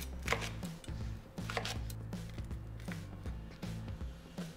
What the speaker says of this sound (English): I'm just gonna roughly chop everything up before putting it into the blender